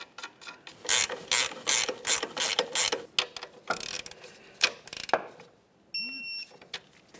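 Ratchet ratcheting fast as a nut is run down on a front sway bar link of a 2009 Pontiac Vibe, close and loud in rhythmic clicking bursts, then a few slower strokes and a brief electronic beep.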